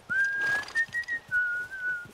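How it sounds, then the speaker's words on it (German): A character in the video game The Last of Us Part I whistles a sustained melodic tune of a few held notes, close and clear over faint background ambience, with no talking. "Hör doch auf zu pfeifen, du Eule."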